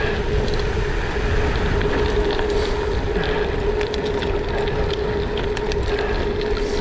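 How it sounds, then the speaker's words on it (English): Bicycle tyres rolling over the gravel surface of an old railway line, a steady close crunching rumble with faint ticking and no pauses. "old railway line, you can probably hear the gravel underneath it, and it's pretty smooth."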